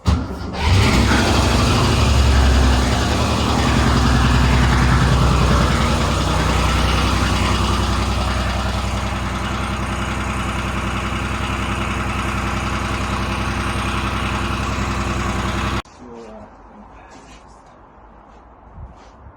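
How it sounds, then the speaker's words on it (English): A Porsche engine idles loud and steady at close range for about sixteen seconds, a dense rumble that cuts off abruptly, leaving quiet background with a few faint ticks. "this is the last video of the car running before the engine comes out"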